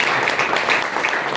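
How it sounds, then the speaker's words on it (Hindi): Loud, dense applause from a church congregation at a Holy Mass, a steady wash of many hands clapping close by and filling the whole moment without a break. "आपकी जोरदार ताली।"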